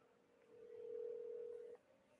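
A single steady telephone ringback tone sounds on an outgoing phone call, rising for about a second and then cutting off, faint and alone.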